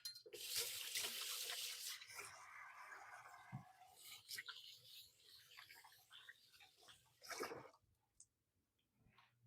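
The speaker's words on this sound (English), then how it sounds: "I'm going to give my hands a quick rinse" Water from a kitchen tap runs into the sink while hands are rinsed under it, a faint, steady splashing hiss with small shifts and a few clunks before it stops.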